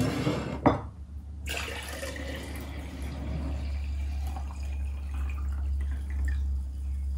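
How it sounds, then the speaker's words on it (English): Water is poured into a jar holding mashed berries, a steady splashing fill with a sharp clink near the start, continuing as an even liquid rush close by, with no talking. "Pour the water into the jar with the berries."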